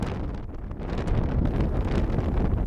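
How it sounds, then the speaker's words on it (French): Strong wind buffeting the microphone on a mountain hike, a steady loud roar with gusts that swell in the second half, no voices. "il y a trop de vent"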